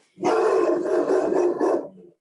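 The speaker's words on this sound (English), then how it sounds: "Are you barking at someone? It's usually barking at me." A dog barks in a short burst of several quick, loud, close barks running together over about two seconds, with no talk over it.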